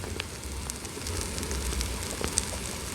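A campfire burns in a survival video game, giving a steady crackling hiss with scattered small pops, moderately loud and continuous with no talking.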